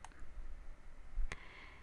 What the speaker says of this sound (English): And double click it.